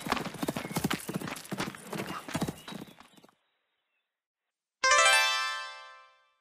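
Storybook sound effect of a horse: rapid hoof clip-clops in an even gallop rhythm, then a short silence and a loud, bright whinny that fades out.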